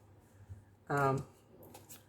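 A Tea Leaf Tarot card deck is shuffled in one quick, close riffle burst that is loud against an otherwise quiet room, followed by softer card handling.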